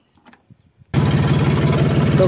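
A Mahindra 275 tractor engine with its silencer removed cranks and catches abruptly after a few faint sounds, then runs loud and close with a rapid, rough, pulsing exhaust beat.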